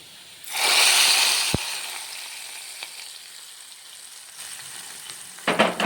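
Fried onion tempering is poured into a bitter gourd curry, setting off a sudden loud hiss that fades into a softer sizzle, with a sharp clink and later spoon clatter near the end.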